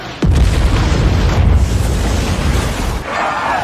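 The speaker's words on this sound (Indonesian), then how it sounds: "Tubuh Bob pun melesat jatuh ke bawah hingga menimbulkan ledakan yang cukup lumayan." Film explosion as Bob crashes down to the ground in Thunderbolts, a sudden loud boom followed by a sustained deep rumble and debris noise.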